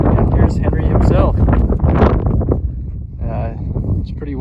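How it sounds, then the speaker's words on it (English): Gusts of wind buffet the microphone with low rumbling thumps while a person talks close by, outdoors in the South Newfoundland Mountains, Box Elder County, Utah. "It's pretty windy, so hopefully you can hear me."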